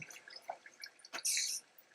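Flowing water in Minecraft, a short burst of trickling and dripping that swells into a brief rushing splash, close and fairly loud, alone without talk.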